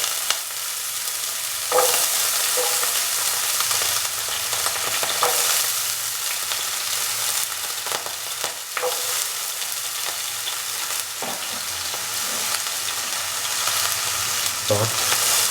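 Cubed potatoes fry in a pan for an Afghani-style breakfast with eggs and tomatoes, a bright steady sizzle broken by repeated scraping and stirring strokes, close and loud throughout.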